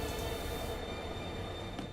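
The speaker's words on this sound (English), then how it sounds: "So we can at least get on the train." A train in The Darkside Detective video game rumbles with a steady low rolling drone and faint rail noise. It is quiet and continuous, with no voices.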